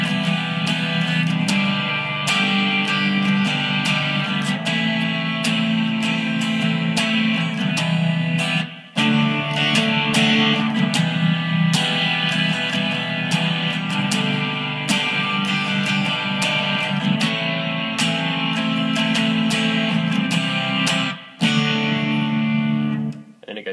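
Distorted electric guitar strumming the chorus of a song, with effects and a chorus-like shimmer, sustained chords in a steady rhythm with two brief breaks, played alone and close.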